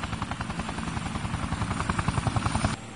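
Police helicopter in the video game Yakuza 4, its rotor thudding in a fast, steady rhythm with a loud engine whine, close and continuous throughout.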